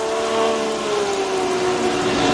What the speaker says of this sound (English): You can hear the rain pour down very hard now